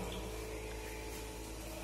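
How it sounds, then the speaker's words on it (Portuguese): Water runs steadily from a bathroom tap in a rental property in Itapuã, Salvador, a continuous close hiss with no clear break. "Abre e fecha a torneira normal."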